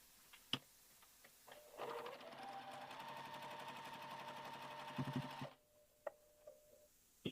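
A sewing machine stitches quilt block pieces in one steady, fast run of about four seconds, faint and close, with small ticks and clicks of handling before and after.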